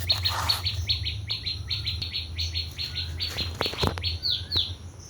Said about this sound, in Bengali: এই দেখুন এই দেখুন আমার বাড়িতে প্রচুর পাখি আসে